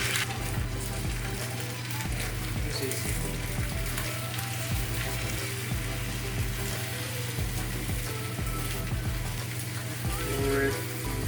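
Egg and dashi mixture for dashimaki tamago poured into a hot pan, giving a steady, close frying sizzle that runs throughout while a person talks over it.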